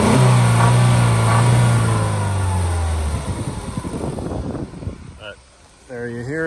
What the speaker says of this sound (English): I'm going to rev it up a little bit so you can hear a little higher RPM